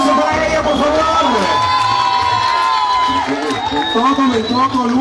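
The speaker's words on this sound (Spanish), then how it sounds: "¡Fuerte un aplauso para ella, por favor!" A concert crowd roars and cheers loudly, with whoops and shouts rising over clapping, while a voice sings or calls out on top of the noise.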